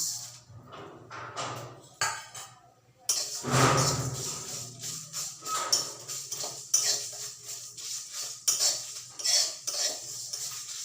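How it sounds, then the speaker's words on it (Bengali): Coriander, black mustard seeds, fennel and dried red chillies rattle and scrape as they dry-roast in a hot pan, with repeated metallic clinks of a spoon stirring close by. "এখন শুকনো খোলায় ভেজে নেব।"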